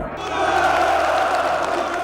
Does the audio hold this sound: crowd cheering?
yes